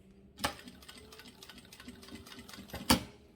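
Sewing machine stitching a fabric cable organizer piece, a quiet rapid mechanical whir with two louder clunks at the start and end of the run, heard up close.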